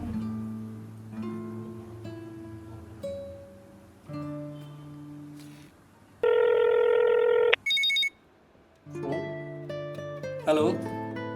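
A phone call rings through from a woman to her village boyfriend, heard as a loud electronic ringing tone in two bursts between stretches of quiet background music.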